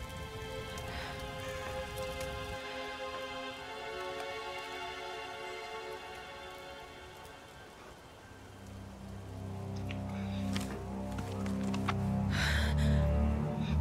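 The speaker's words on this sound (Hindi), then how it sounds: "बारिश रुक गई, तूफान थम गया।" Rain falling in the video game Tomb Raider, a continuous hiss of rain pattering on surfaces under a layered musical score that grows louder and deeper toward the end.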